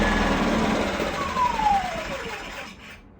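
A small portable generator engine, started with starting fluid, runs with a rough, steady roar and a rising whine, then sputters and cuts out near the end.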